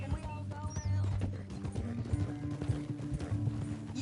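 Horse hooves clip-clop steadily in Red Dead Redemption 2 as a captive rides tied up toward Saint Denis, a rhythmic trot under game ambience and music.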